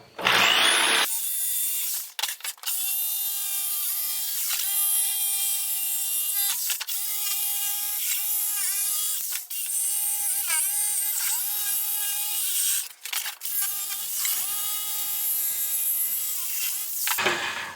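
A power saw cuts wood pieces for a chicken nesting box, a loud, steady whining buzz broken by several short pauses between cuts, close and with no talk.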